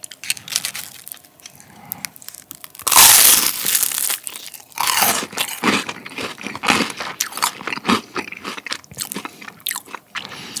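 Close-up biting and chewing of crispy homemade menbosha, fried shrimp toast dipped in a lemony sauce, with a loud crunch near the start followed by steady wet, crackly chewing and crunching, no talk.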